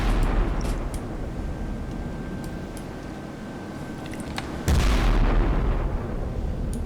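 Eleven-inch naval guns of German battleships fire salvos in a naval combat game, heavy booming blasts over a constant low rumble, with a loud new report near the end and no speech.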